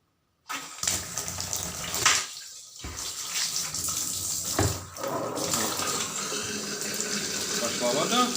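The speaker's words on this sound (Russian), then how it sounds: "Пошла вода." Warm water from a shower head gushes through a bathroom sink siphon, a close, continuous rushing flow that starts after a brief silence and pauses for a moment.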